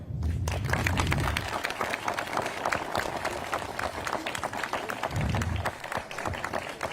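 A crowd claps loudly and steadily at a schoolchildren's campfire evening, with dense applause running throughout and rising in swells near the start and again toward the end.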